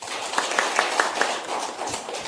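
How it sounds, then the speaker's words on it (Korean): Audience applause at a seminar on foreign and security policy, welcoming the opening speaker: steady broadband clapping throughout with a few sharper accented claps standing out, moderately loud, no one talking. "큰 박수로 환영해 주시기 바랍니다."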